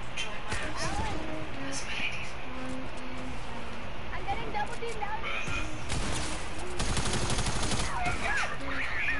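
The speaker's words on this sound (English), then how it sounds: "I was trying to shoot him, but you killed him." Rapid gunfire bursts in the Fortnite video game, loud and repeated over busy game sounds, heard beneath players chatting.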